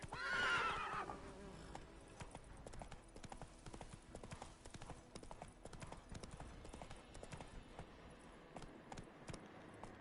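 Hooves of a horse in a video game gallop in quick, rhythmic clip-clops, with a short neigh near the start. The galloping is moderately quiet and continues to the end.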